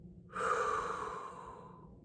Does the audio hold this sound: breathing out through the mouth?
yes